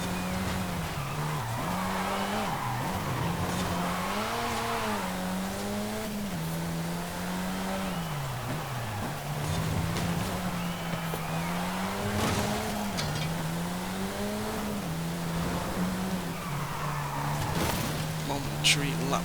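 A Saleen S1 race car engine in Forza Horizon 5, droning steadily with wavering pitch as it shifts and revs through a race, tires squealing at times, with someone talking over it throughout.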